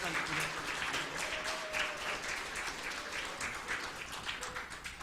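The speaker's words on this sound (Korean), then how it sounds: "우리 박수로 환영하도록 하겠습니다" A church congregation claps in welcome, a steady wash of applause filling the room while a voice talks over it.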